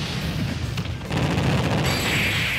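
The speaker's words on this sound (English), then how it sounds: "Oh, he's been hit by the bomb." A bomb explodes and strikes a character during an online match of Super Smash Bros. Ultimate, a loud, dense blast and rumbling crackle that fills the whole moment without letup.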